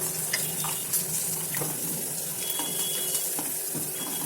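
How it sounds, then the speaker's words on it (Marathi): Nylon fryums frying in hot oil over a low flame, a steady dense sizzle with scattered faint pops and crackles throughout, close and continuous with no talking. "तेला गरम झालेलं आहे आता यामध्ये लायलॉन सोडा"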